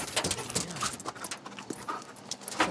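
A police drug-sniffing dog searching a car pants rapidly and sniffs at close range, with quick rhythmic breaths, small whimpers and light scuffling.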